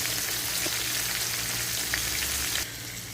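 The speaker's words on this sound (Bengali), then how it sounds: "চিংড়ি মাছগুলো লাল লাল করে ভেজে নেব" Prawns sizzle steadily in hot oil left over from frying potatoes, a dense continuous crackle with occasional pops, close and loud, easing slightly in level near the end.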